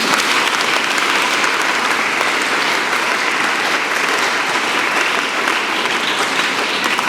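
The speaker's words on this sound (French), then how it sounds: "Applaudissons pour les enfants missionnaires." A church congregation at a children's missionary mass applauds the missionary children, with steady, loud clapping that fills the space evenly from start to finish and no talk.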